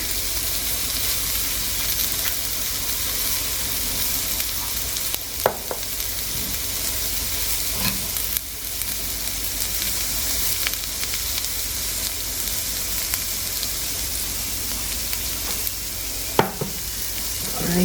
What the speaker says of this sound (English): I hear sizzling and whistling.